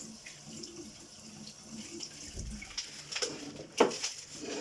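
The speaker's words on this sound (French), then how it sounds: "Et là maintenant je vais essayer avec de l'eau un peu plus chaude" Hot water runs from a tap in a steady, faint hiss that grows a little louder and splashier toward the end, with no voices.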